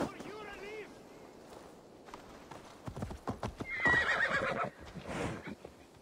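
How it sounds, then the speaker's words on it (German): Horse in the video game Assassin's Creed Valhalla: a whinny opens, then hooves clop closer in an uneven gallop with a louder burst of snorting and movement, while someone talks in between. "Kommt denn jetzt auf einmal das Pferd her?"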